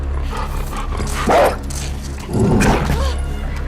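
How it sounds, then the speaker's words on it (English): A dog in The Last of Us Part II video game gives two sharp barks, close by, over a steady low ambient rumble. "when the dog is sniffing you and where it's going"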